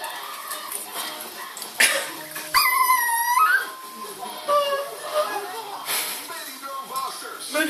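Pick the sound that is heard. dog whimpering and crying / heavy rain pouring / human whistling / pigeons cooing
dog whimpering and crying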